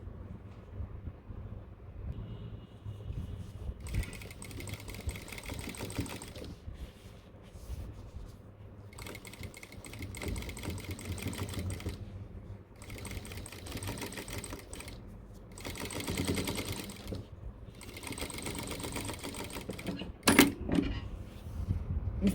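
A sewing machine stitching cargo pants fabric, running in several long bursts of rapid, steady whirring separated by short pauses, close up with no talk.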